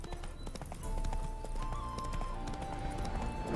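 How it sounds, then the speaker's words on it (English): Roach, the horse in The Witcher 3, spooked by ghosts: steady hoof clip-clop on ground with a brief whinny, moderately close, no voices over it. "Spooking my horse."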